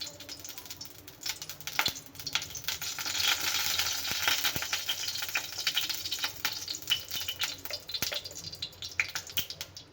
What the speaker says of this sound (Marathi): तर इथे मी चार चमचे घातलेला आहे तूप तर हे छान वितळून घेऊया